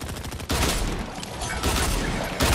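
Fortnite gunfire from several weapons, a loud, close, dense burst of rapid shots that breaks off briefly and then resumes, with no talking.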